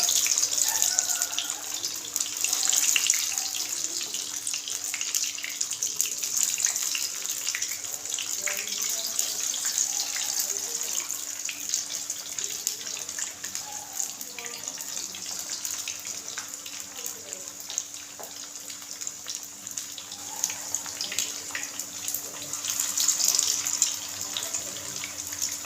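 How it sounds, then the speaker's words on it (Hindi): Sabudana vadas, sago patties, fry in moderately hot oil over low heat, giving a continuous, soft sizzling hiss that stays fairly even throughout. "अब हम इसमें अपनी टिक्कियाँ डालेंगे।"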